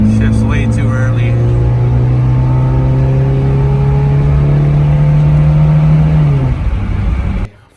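A Toyota AE86 fitted with a Weber carburetor drives on a test run, its engine droning loud and close with a steady note that climbs slowly before easing off and cutting away at the end.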